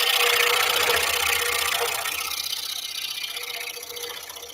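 A saw cuts wood for an intarsia seagull, a dense rasping hiss that is loudest at the start and eases off as the cut continues, with no talking.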